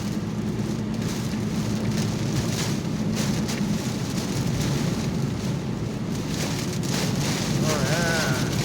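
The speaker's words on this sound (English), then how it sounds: "Oh yeah, that rain." Steady rain pours over a car driving home in a heavy rainstorm with wipers on high, a dense continuous wash with wind noise throughout and a voice talking faintly underneath.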